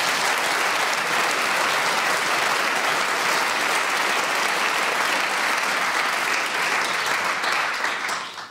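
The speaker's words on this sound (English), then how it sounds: "this grandfather of all rounds of applause." Sustained, loud studio audience applause at a radio quiz show recording, an even wash of many hands clapping that carries on for over eight seconds before tapering off.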